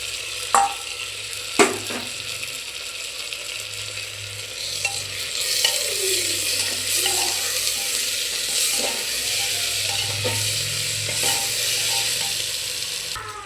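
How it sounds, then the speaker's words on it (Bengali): Onion, tomato and ginger-garlic paste fry in oil in a pan for an egg biryani. A steady sizzle runs throughout, with a few sharp knocks and scrapes of stirring and no talk. "আমি আদা রসুনের পেস্টটা দিয়ে আরবার ভালো করে ভেজে নেব"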